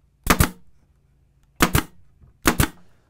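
A pneumatic nail gun driven by a Senco PC1010 compressor shoots three nails into trim wood, each a sharp, close double snap, spaced about a second or more apart against a quiet background.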